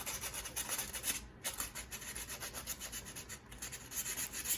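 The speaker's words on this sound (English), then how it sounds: "And I've got some sandpaper. This is really fine grit" Fine 220-grit sandpaper rubbing back and forth to scuff a surface on a Singer 221 Featherweight sewing machine, a steady close scratchy rasping in repeated strokes with a brief pause midway.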